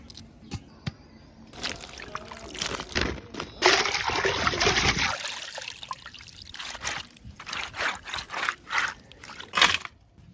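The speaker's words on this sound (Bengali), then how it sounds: "মাছ আর চাল কুমারটা ধোয়া হয়ে গেছে" Small freshwater fish and ash gourd being washed by hand in water, with intermittent splashing, sloshing and trickling in short bursts and a longer stretch of swirling water, close by.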